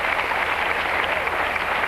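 Studio audience on a French TV music special gives steady, dense applause, a continuous wash of many hands clapping at an even level throughout, with no voices over it.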